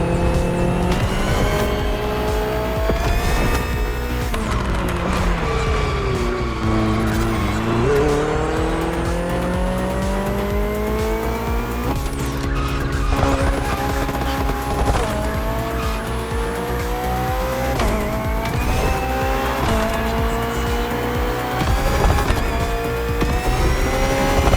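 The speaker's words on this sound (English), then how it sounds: "The Hybrid V8 will do the rest." A BMW hybrid V8 race car in a racing video game roars continuously with rising and falling revs through gear shifts, while tires squeal and skid throughout, loud and constant.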